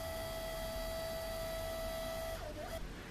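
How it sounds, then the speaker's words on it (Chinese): An HP Sprocket pocket photo printer feeds a blue calibration card through several times, giving a steady mechanical whir with high tones, then a brief shift as the paper moves. "它这个地方就像一个蟾蜍一样，要吞进吐出好几轮，是为了让打印的质量更好，就是校准颜色的"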